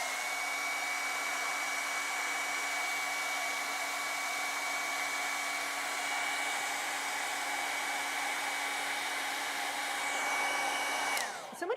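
A hair dryer blowing steadily to dry acrylic paint on a canvas, a continuous even whirring hum with a high whine for over ten seconds, then switched off with a brief rattle at the end.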